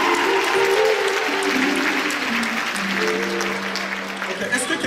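Audience at a gospel concert at the Dock Eiffel in Aubervilliers, Paris, cheers and applauds steadily, a dense wash of clapping and crowd voices throughout with sustained tones under it.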